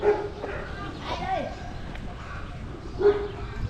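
Dogs bark on a street in Buriram, Thailand, a few yips and barks from some distance, mixed with someone talking nearby.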